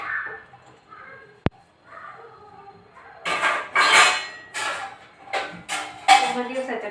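Tea pots and dishes are scrubbed and washed, with a sharp clink followed by bursts of clattering metal and splashing water, and a faint voice earlier.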